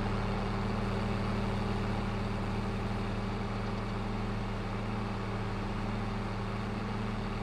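A tractor engine in Farming Simulator 22 drones in a steady, loud, low hum with constant tonal harmonics, running evenly without pauses while driving.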